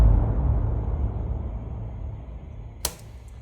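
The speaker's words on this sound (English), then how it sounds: "Then you get a reverb which sounds like this." Sample processed through an Ableton reverb on a modified Cathedral preset, giving a loud low-heavy wash that slowly decays over about three seconds, followed by a brief sharp bright hit near the end.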